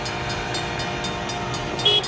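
A train rolls past a rail crossing with rhythmic wheel clacking over a steady rumble, and a brief horn-like tone sounds near the end.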